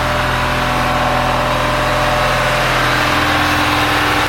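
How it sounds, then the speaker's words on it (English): A large ship engine runs loud and steady at close range in the engine room, a constant droning hum with a throbbing low rhythm filling an enclosed space. "Once we get inside the engine room, we slam the door shut"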